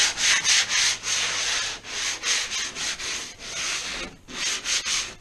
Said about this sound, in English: the area a bit of a sand, just to smooth off any burrs